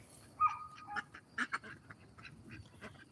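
Indian runner ducks quacking in a short scattered burst of calls, moderately close over a low rumbling outdoor background.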